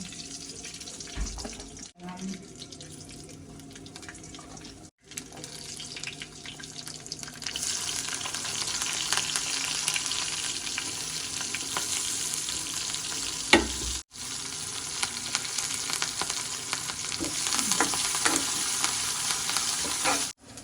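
Mustard seeds and pumpkin pieces frying in hot oil in a home kitchen pan, with a steady broad sizzle that grows stronger partway through, broken by brief stirring knocks and pauses.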